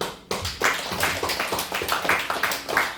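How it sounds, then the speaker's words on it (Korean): Church audience clapping in scattered rhythmic bursts, close and moderately loud, with uneven taps rather than a full ovation. "박수 한번 주세요."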